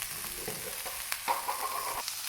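Ceylon chilli paste fries in a pan while being stirred, a soft sizzle under brief scraping strokes and a short squeaky scrape near the end.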